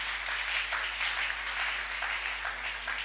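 A church congregation applauds with steady, dense clapping from many hands that holds evenly throughout, filling the room with no speech over it.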